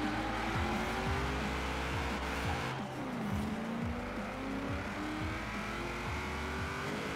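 A car driving on a snowy, icy road in Forza Horizon 4, its engine droning and revving through repeated gear shifts, loud and continuous, with no talk.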